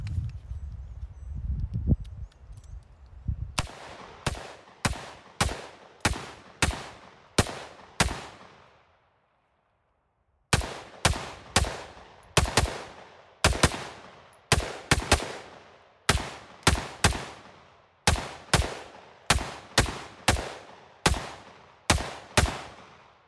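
A 7.5 inch AR pistol fires rounds from a KCI USA 30-round magazine, sharp loud reports at a steady deliberate pace, one shot every second or so, with a short pause partway through and a little handling noise first.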